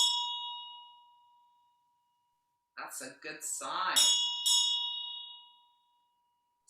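A meditation bell's clear ring fades out over the first two seconds. After a short silence a voice speaks briefly, and the bell tone returns faintly at the very end.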